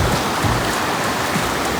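A waterfall and a river pour along in a dense, constant roar of flowing water with no break, heard close and alone.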